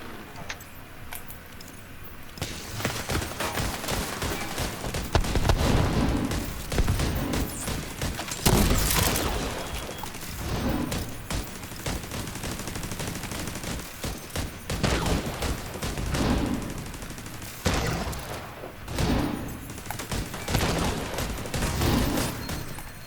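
Rapid rifle fire in a multiplayer arena-mode video game, dense bursts of loud close shots and booms repeating across the stretch amid constant game noise, with a voice talking over it.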